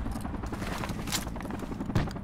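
Dense, continuous gunfire in the military shooter Project Reality crackles throughout, with one sharper burst near the end, all at a steady loud level.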